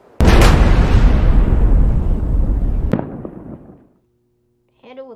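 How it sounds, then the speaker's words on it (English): A TNT explosion in the video game Henry Stickmin, one sudden loud blast with a long rumbling decay lasting about three seconds and a sharp crack near its end, then silence before a voice starts. "I think that was too much TNT to begin with."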